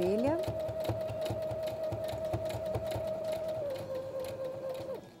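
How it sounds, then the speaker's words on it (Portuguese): A small sewing machine runs steadily through soft plush fabric for a stuffed lion, a loud continuous whirring motor with a rapid needle clatter that rises at the start and slows near the end, while someone talks over it. "a maquininha costura de boa"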